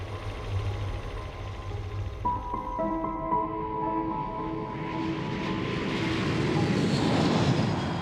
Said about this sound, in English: the danger of turboprops spinning invisibly about